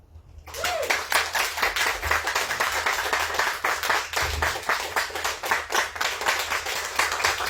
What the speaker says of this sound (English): Clap for yourselves.